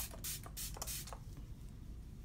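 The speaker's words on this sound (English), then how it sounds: "I'm just gonna take some Fix Plus, spray it" Fix Plus setting spray is misted from a pump bottle in a few short hissing bursts close by, followed by quieter room tone.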